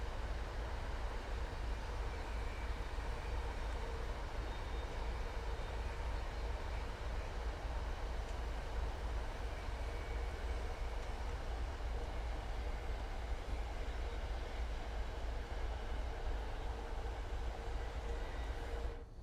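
HSP-46 locomotive in Train Sim World 5 on the Boston to Providence line, a steady loud rumble of engine and rolling stock running continuously without pause, with rail noise throughout.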